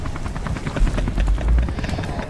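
A helicopter's rotor in the video game Beyond: Two Souls thumps in a fast, pulsing rhythm, close and fairly loud, with a deep rumble swelling beneath it.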